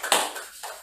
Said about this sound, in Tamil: அந்த கை தட்டும் போது